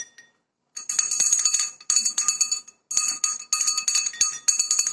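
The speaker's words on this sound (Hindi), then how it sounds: "ये बड़ी घंटी की आवाज।" A large handmade clay bell, a thread-hung Diwali toy, jingles in several shaken bursts of bright, close clinking strikes separated by short silences.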